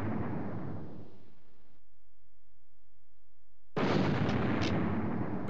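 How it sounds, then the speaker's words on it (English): Rifle-triggered barrel explosions in the Commandos 2 game on original Xbox: a loud blast that rumbles and fades out, a stretch of near silence, then a second heavy explosion bursting in and sustaining to the end, with no talking. "Now blow up the rest of the barrels."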